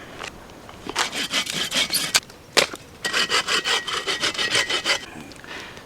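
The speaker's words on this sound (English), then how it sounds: "let me get busy cutting some firewood and get a fire started." Firewood being hand-sawn outdoors in the back country, a close, rhythmic series of rasping saw strokes, a short burst first, then a pause and a steady run of about ten even strokes.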